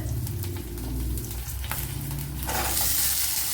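Crackling, popping sizzle of shallots frying in a pan, with clicks of stirring and a surge of louder hiss toward the end.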